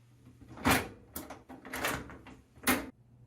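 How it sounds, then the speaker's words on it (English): A GE clothes dryer door lifted up and off its hinges, giving several short knocking clunks and rattles of metal and plastic spread over a few seconds, close by and with no talking. "now we're going to go ahead and lift our door straight up off."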